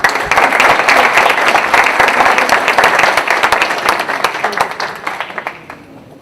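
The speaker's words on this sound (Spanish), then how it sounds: "También un fuerte aplauso para la UNI y para el British Council" An audience claps in sustained applause at a Peruvian event on art, science and technology, dense and loud at first, then thinning and fading out toward the end.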